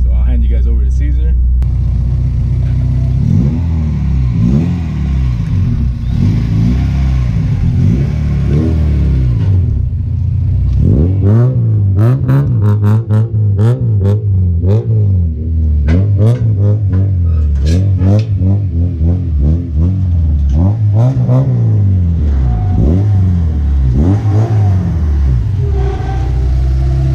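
A Honda Civic EG hatchback with an H2B engine revs over and over while being driven up onto a trailer, rising and falling in loud repeated bursts up close, with voices over parts of it.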